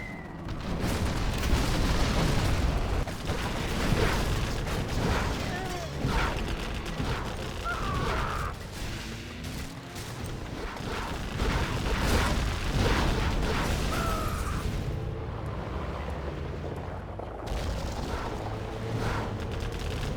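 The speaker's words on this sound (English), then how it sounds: "Carpet bomb coming in." Carpet bombing in the real-time strategy game C&C Generals Zero Hour: a steady rumble of heavy explosions and booms rolls on for about twenty seconds, with crackling blasts layered through it.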